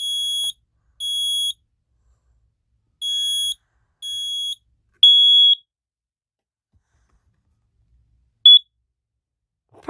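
Smoke detector in a room during a fire alarm system test, giving several short, loud, high-pitched electronic beeps at irregular intervals with silence between, with no talking.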